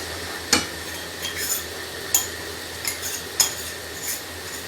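A spoon scrapes and stirs a cashew cake mixture with ghee in a pan, giving a few distinct clinks and scrapes over a soft, steady sizzle with no talking.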